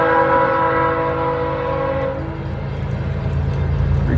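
A train draws near and sounds a loud, sustained multi-tone horn that cuts off after about two seconds, followed by the heavy rumble of the passing train close by.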